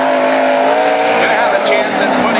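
Race car engine at high revs during a qualifying lap at Cottage Grove, the number 36 Eagle chassis, a loud sustained drone close by with a commentator talking over it.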